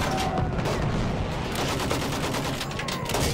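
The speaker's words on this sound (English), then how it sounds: "Use that machine gun, mow them down!" Rapid machine gun fire in the WWI battle game Battlefield 1, dense rattling bursts layered with distant gunfire and battlefield din, continuous and moderately loud.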